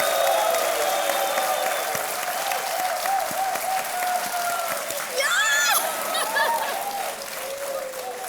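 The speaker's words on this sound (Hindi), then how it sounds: "तालियां बजती रहें इनके लिए" Studio audience on the KBC game show applauding a contestant, a steady dense wash of clapping that stays loud and continuous throughout, with cheers rising briefly partway through.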